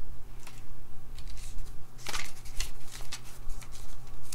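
A deck of tarot cards being shuffled up close, quick riffling bursts and papery slaps repeating over a few seconds, with a faint low hum underneath.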